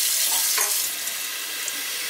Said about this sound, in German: ich muss die Pflanzen gießen